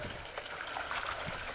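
Water pours and trickles steadily while potatoes are rinsed for traditional homemade potato chips, a continuous close splashing flow with faint voices in the background.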